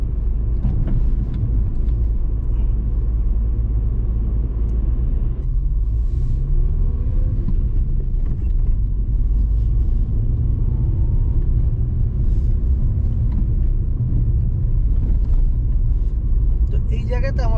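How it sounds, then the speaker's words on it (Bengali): Car driving along a 20 mph residential road in Manchester, a steady low engine and road rumble throughout, loud and close, with someone talking over it. "এখন আমরা 20 মাইল স্পিড রোডে ঢুকে গেছি"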